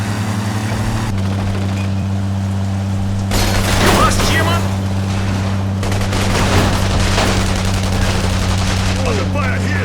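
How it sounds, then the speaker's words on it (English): Dense gunfire from The Saboteur video game rattles in sustained bursts over a constant low engine-like drone, with heavier volleys and booms in the middle and voices shouting amid the shooting. "Under fire here!"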